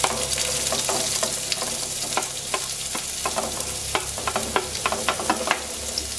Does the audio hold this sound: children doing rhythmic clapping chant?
no